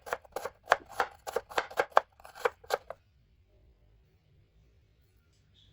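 Onions are cut finely on a board with a quick, even run of close, crisp knife strokes, about a dozen in three seconds, followed by near silence.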